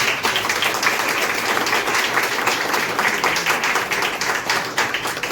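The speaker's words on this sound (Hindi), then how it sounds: "ताली बजाओ जोर से" A church congregation claps loudly and steadily, dense overlapping handclaps filling the room at an even volume throughout.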